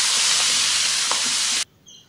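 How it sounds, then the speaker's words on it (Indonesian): Chopped garlic and shallots fry in oil left over from frying fish, making a loud, steady hiss and crackle close by that cuts off abruptly, leaving near silence. "ini mau langsung kita goreng pakai bekas goreng ikan tadi"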